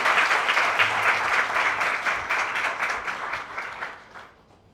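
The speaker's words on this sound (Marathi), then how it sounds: "असं एक छान काम जयश्री त्यांनी केल्याबद्दल एकदा जोरात टाळ्या वाजवून आपण त्यांचं अभिनंदन करूया." An audience at a book launch claps in loud, dense applause that holds strong, then fades away over the last second.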